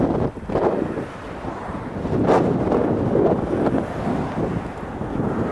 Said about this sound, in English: Oh, wind, wind!